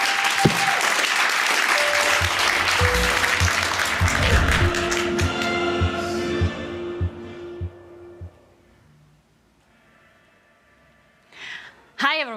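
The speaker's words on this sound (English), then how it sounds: "So can we give them one more round of applause?" An audience applauds the hosts of Superweek TV with a loud burst of clapping that tapers off over several seconds into near silence, followed by a short bit of voice at the end.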